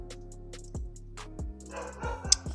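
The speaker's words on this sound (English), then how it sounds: "ignore my dog in the background" A pet dog barks a few times in the background, single sharp yelps spaced out over quiet music, the last bark louder and closer.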